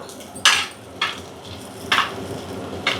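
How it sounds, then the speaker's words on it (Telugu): Chopped green chillies fry in a pan for baby corn 65, with a low steady sizzle beneath four separate scraping strokes of a utensil against the pan. "కట్ చేసి పెట్టుకున్న పచ్చిమిర్చి ఇవి కూడా కొంచెం కొంచెం ఫ్రై అవ్వాలన్నమాట"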